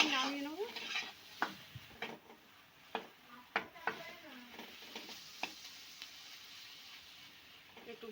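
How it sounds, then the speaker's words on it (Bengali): Potol dolma filling being stir-fried in a pan: a soft sizzle under repeated scraping and clattering strokes of a spatula, irregular and close, with no talk. "এবার এইগুলো ভালো করে কষে নেব"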